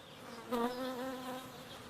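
Bees buzz close by, a short harmonic drone that swells briefly and then holds steady at moderate volume.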